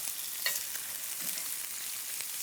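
Steaks sear in a hot cast iron skillet, giving a steady close hiss of frying fat with a few faint ticks and pops throughout and no voices.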